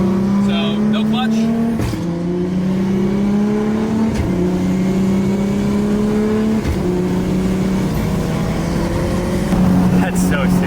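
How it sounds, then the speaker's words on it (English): Loud, steady engine drone from an 1100 hp Nissan R32 GTR with a PPG sequential gearbox, rising in pitch through several gear pulls with brief breaks, crackles and pops between shifts; speech is faintly present. "it also makes some cool pops and bangs and some fireballs while we're at it"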